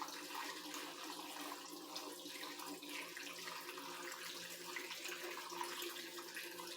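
Bill Hirsch gas tank sealer poured into a metal fuel tank, making a steady, continuous liquid trickle and splash that stays even and fairly close throughout, with no talking.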